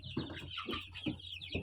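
Young incubator-hatched chicks from a trial batch, giving faint repeated high peeps over soft clucking sounds in a quiet pen.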